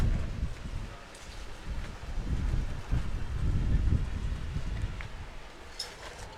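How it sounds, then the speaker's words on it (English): Strong wind blows across an outdoor lawn bowls green at a state singles championship, a steady low rumbling buffeting of the microphone that rises and falls and has no voices over it. "Wind whipping through."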